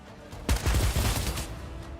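Burst of rapid gunfire as enemies shoot in a video game, a sharp onset followed by about a second of dense, rattling shots that trail off into a quieter tail.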